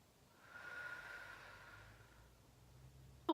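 A slow, audible exhale through the nose and mouth during a core connection breathing exercise, a soft breathy rush that swells and fades, ending with a brief click, no talking.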